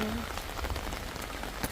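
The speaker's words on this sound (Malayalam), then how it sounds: "അതേ, ഈ മഴ തുടങ്ങിയിട്ടുണ്ട്." Rain falls steadily at a hill resort in Munnar as an afternoon storm begins, a soft, even patter on surfaces that stays faint and constant.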